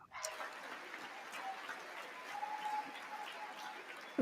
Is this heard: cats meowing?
no